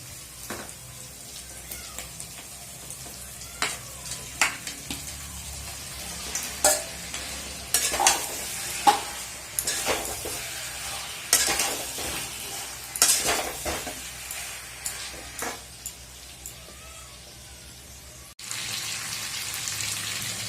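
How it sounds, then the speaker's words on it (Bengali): Marinated duck meat frying in spice masala in a pot, a continuous sizzle broken by repeated scraping and knocking strokes of the stirring spoon, close and steady over a long stretch. "এবার আমি ম্যারিনেট করা মাংসটা দিয়ে মশলাটা ভালো করে আরও মিনিট পনেরো কষবো"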